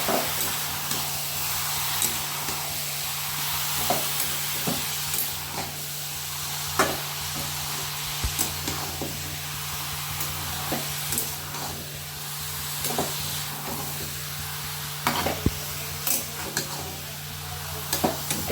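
Shredded cabbage and green peas fry in a wok (kadai) with a continuous sizzling hiss, broken by regular scraping stirs and occasional clinks of the spatula against the pan, with no voices.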